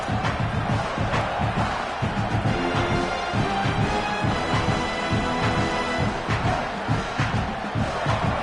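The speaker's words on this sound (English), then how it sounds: "this crowd trying to help keep them there" A loud football stadium crowd roaring and cheering continuously during a Gamecocks game, a dense sustained wall of voices with rhythmic swells, close and full throughout.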